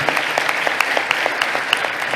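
Worshippers at a church communion and farewell service applaud in brisk, fairly loud clapping, with individual sharp claps standing out from the steady patter throughout.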